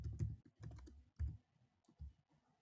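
Someone types on a computer keyboard while entering an accounting entry in Tally: a few quick clusters of close, crisp keystrokes separated by short pauses, heard alone and fairly quiet.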